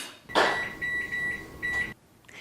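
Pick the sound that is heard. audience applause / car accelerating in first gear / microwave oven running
microwave oven running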